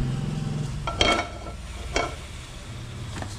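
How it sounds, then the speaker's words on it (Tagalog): Garlic, onion and ginger sautéing in a pan, a low steady sizzle broken by a few sharp scrapes and clinks of a utensil stirring, fairly close with no talking. "Gigisa tayo ng bawang, sibuyas, luya."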